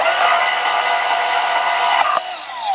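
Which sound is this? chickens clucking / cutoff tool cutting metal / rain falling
cutoff tool cutting metal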